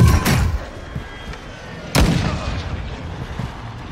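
Gunfire in a first-person shooter video game, with two loud sharp blasts near the start and another burst around the two-second mark, each ringing out over a busy rumbling background.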